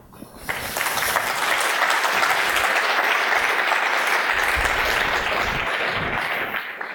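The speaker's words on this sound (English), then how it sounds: "You need to give your hands a big clap in here" A conference audience at ChefConf 2014 bursts into applause that swells within the first second, holds as a full, dense roar of clapping, then begins to thin out at the end, with no talking over it.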